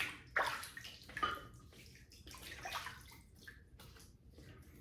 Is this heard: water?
yes